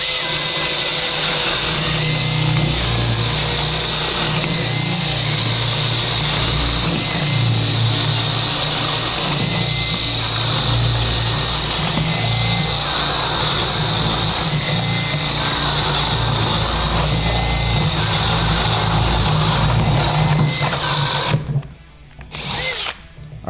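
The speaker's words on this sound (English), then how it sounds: "Chuck was using a conventional bit and it had a hard time penetrating through the different layers of material" A power drill with a conventional bit bores steadily through three stacked layers of 3/4-inch plywood, a loud continuous whine with a sustained motor tone lasting about twenty seconds, then cutting out abruptly and leaving brief quieter bursts.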